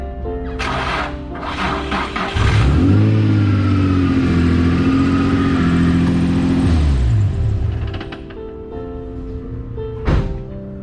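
A Nissan Z33 engine fires up after a steering rack spacer install, then holds a loud, steady droning run for several seconds before settling, with clunks of handling around it.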